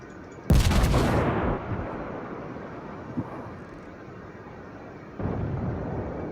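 Naval guns of the battleship Grosse Kurfürst in a warship video game fire in one loud, booming salvo that rolls off into a long rumbling tail, followed later by a softer distant boom.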